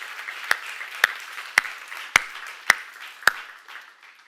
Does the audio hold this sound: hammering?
no